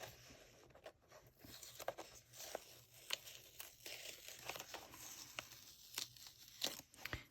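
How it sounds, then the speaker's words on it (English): Tape peels slowly off stenciled paper, producing faint, close, papery tearing and crinkling in short uneven bursts at low volume. "It's so satisfying when you peel this tape off too"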